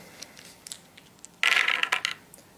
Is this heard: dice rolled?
yes